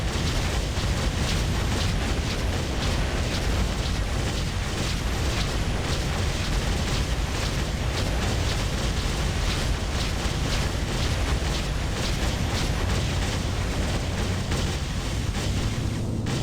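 A torpedo blast in the space game Freelancer breaking apart metal chunks: a loud, sustained roaring rumble with dense crackling debris that stays dense and steady throughout, with no voices.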